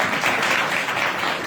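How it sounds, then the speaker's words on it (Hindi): A congregation at a prayer house sermon claps in a short, dense burst of applause, loud and close, with no talk over it. "सुंदर के लिए ताली बजा दो"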